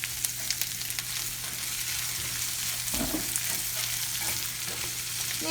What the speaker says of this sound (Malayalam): പച്ചമുളക് ചേർത്ത ശേഷം സവാള നന്നായിട്ടൊന്ന് വഴറ്റിയെടുക്കണം